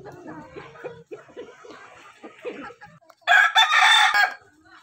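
Native chickens clucking in short bursts close by, joined by a louder burst of crowing or squawking near the end; someone speaks under the birds at the start.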